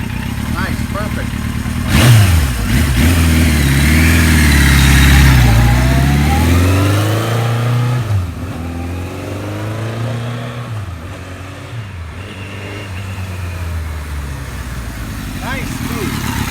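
A 1976 Kawasaki KZ900 motorcycle runs while being ridden, its engine note rising and falling steadily and close by throughout, with a strong surge early on, then settling into a smoother, even drone.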